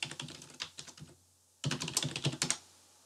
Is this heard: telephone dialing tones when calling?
no